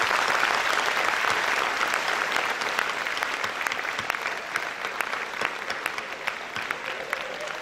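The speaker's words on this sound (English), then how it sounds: "Can we have a big round of applause for them?" An audience at a felicitation function claps in a big round of applause, dense and sustained throughout, fading slightly toward the end.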